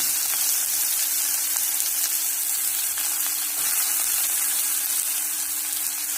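Onion with cumin and mustard seeds fries in hot oil, making a loud, dense, continuous hiss-like sizzle that stays even from start to finish.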